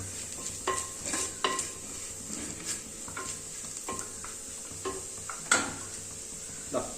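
Chopped ripe tomato sautéing into a crab curry, a soft sizzle broken by repeated spoon scrapes and knocks against the pot, close and fairly quiet, no voices.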